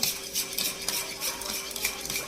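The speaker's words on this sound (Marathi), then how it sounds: "आता दहीमध्ये साखर टाकून चांगलं फेटून घ्यायचं" Sugar being whisked into curd (yogurt) in a bowl for a fasting-day sabudana vada dish: steady, close scraping and clinking strokes of a utensil stirring against the bowl, continuous and without speech.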